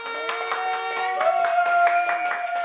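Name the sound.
children clapping hands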